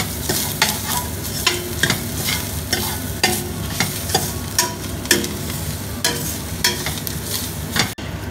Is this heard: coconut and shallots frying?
yes